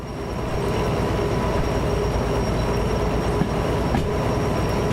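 Train running in the video game Derail Valley, the 4024 locomotive, a steady dense rumble of engine and wheels continuing throughout at close range, with no talk.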